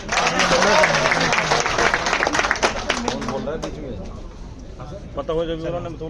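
A gathering of union members applauds at a meeting where demands are presented, a loud dense burst of clapping that tapers off and gives way to voices toward the end.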